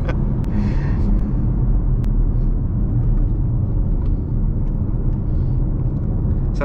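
A BMW X3 M40i driving on the road, its engine and tyre roar a steady, loud, close rumble filling the cabin throughout, with no talking.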